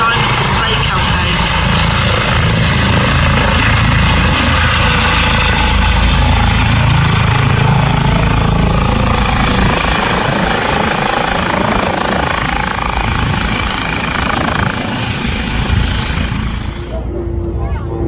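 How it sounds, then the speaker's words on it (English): Helicopter arriving at the Midlands Air Festival air display, a loud, close, continuous rotor throb and engine roar that holds steady throughout, with a voice talking over it. "as the helicopter that ferries Red 10 around the country comes in to see us"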